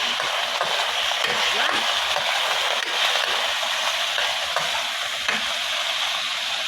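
Pork frying with garlic and onion for adobo, a loud close hiss of sizzling oil with wet crackles and occasional scraping of a utensil stirring the pan.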